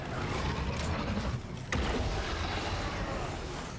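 Rapid gunfire from a weapon that burns through ammo fast in State of Decay 2, a dense continuous roar of shots and booms with one sharp crack midway, loud and close, no voices.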